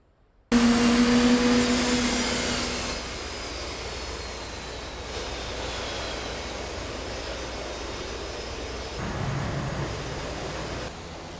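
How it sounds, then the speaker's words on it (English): F-15 jets starting up in the DCS World flight simulator over the Persian Gulf: a loud, steady jet engine whine and roar that cuts in abruptly, eases slightly after a few seconds, then continues as a sustained drone. "F-15s are starting up"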